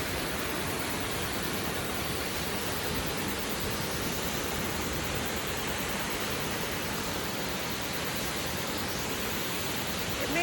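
Rainbow Falls pours in a constant, dense roar of rushing water, a loud steady wash with no breaks that fills the whole stretch.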